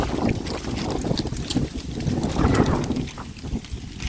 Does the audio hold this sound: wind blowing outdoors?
yes